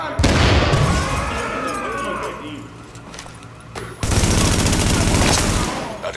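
Gunfire and a grenade blast in Tom Clancy's The Division: loud bursts of shots up front, a quieter stretch, then a sudden heavy explosion with sustained roaring debris.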